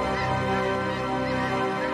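Migrating geese and other fowl honk and call continuously along the Mississippi River flyway in autumn, a dense overlapping flock chorus with no talking.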